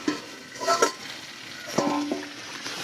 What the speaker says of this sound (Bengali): মাংসটা ভালো করে কষে নিতে হবে